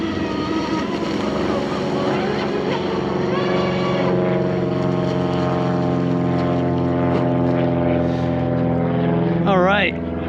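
A Seaducer SD3 FE-30 mono hull RC boat runs on water with a loud, steady electric whine, its pitch sliding and rising as it speeds along, with wind noise and a sharp pitch wobble near the end.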